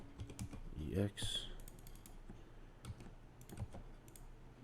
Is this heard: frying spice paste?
no